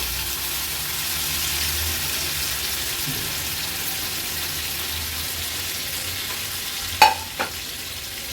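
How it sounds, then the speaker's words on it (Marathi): Marinated Konkan mangoes are sautéed without water in a pan of tempering, giving a steady, soft sizzle and faint stirring throughout, with two brief sharp clinks of a utensil near the end. "थोडंही पाणी न घालता थोडेसे हे असे परतून घ्यायचे आहे।"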